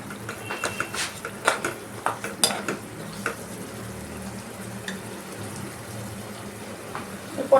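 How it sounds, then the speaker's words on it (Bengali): Coconut powder being stirred into pumpkin in a pan, a series of close metallic scrapes and clinks early on, then a softer steady hiss with an occasional tap. "এই যে নারকেল গুঁড়োটা দিয়ে আমি এটাকে একটু নাড়িয়ে নিচ্ছি"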